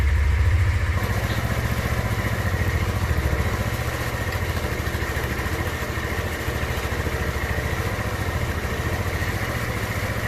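A motorcycle engine idles steadily during carburetor synchronization and tuning, a close, even, continuous putter that holds at a constant level throughout.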